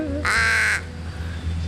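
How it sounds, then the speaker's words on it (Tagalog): A single loud, harsh caw from a crow at a campsite near Metro Manila, close and sustained for about half a second, over a steady low hum with quiet surroundings afterward. "May uwak sila, oh."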